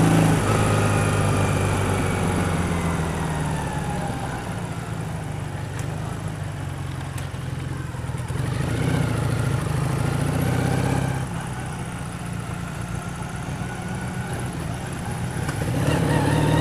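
Engine of a 1984 Honda CB400 cafe racer motorcycle while riding, a steady low drone with rising and falling pitch as it accelerates and shifts, accompanied by road and wind noise throughout.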